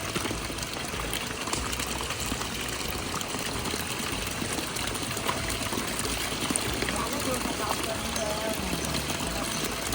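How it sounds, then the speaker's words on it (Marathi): Irrigation water runs into a flooded rice paddy field, a soft continuous trickle and gurgle at moderate distance with faint voices in the background. "तर ते आता पाणी लावत आहेत"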